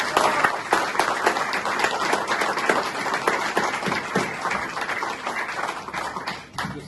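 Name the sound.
audience applause at book presentation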